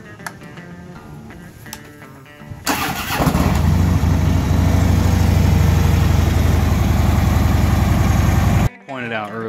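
A 2011 Harley-Davidson Road Glide 103 V-twin fires up after a few seconds of quiet, then settles into a loud, steady, lumpy idle close by, running on until it cuts off abruptly near the end.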